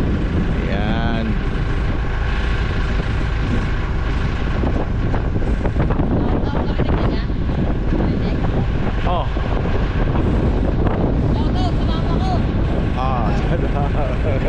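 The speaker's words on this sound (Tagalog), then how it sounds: "Lakas ng hangin. 47 mph ang hangin." Strong 47 mph wind roars continuously across the microphone on a boat at sea, loud and unbroken, with a short exclamation and some engine or water noise mixed underneath.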